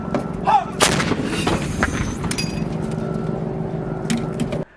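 Artillery gun fire: a sharp, loud blast near the start and a second heavy report just after, followed by rumbling roar and scattered clinks and cracks, with no talk.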